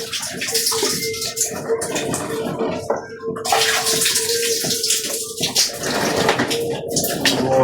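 Water runs steadily and loudly while an air conditioner unit is washed out, a continuous splashing gush with shifting spray, alone without talk.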